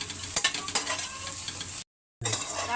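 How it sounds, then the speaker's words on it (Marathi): Onion sautéed and stirred in a kadhai gives a steady close sizzle with scraping strokes of a spoon against the pan, broken briefly by a short cut of silence near the end. "आता ह्याच कढाईमध्ये मी कांदा परतून घेते."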